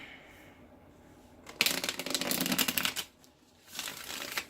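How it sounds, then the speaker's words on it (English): Tarot cards are shuffled close by, with a riffling burst of crisp, rapid flicks, then a short pause and a second, quieter round of shuffling. "I'm hearing one more shuffle"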